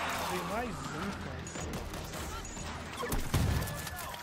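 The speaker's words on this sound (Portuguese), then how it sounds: "Explosões aí que acontecem aí, é estranho." Gunfire and explosions from the zombie shooter game World War Z: Aftermath, a rattle of shots with a heavier blast near the end, heard faintly beneath a player's talking.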